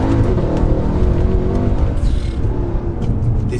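A Mercedes C63 AMG, high mileage, accelerating hard in manual first gear with traction control off, its engine roaring loud and close throughout.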